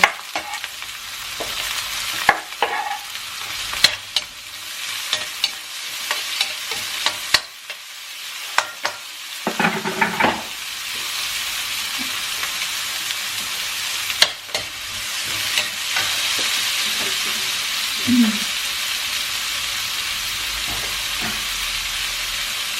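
Garlic, onion and sweet paprika fry with ground beef in a hot pan, a constant hissing sizzle punctuated by sharp utensil clanks and scrapes, louder in the second half.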